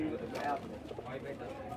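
Pigeons cooing at an open-air pigeon market in Sarulia, Bangladesh, with soft, close, throaty coos mixed in among people talking nearby.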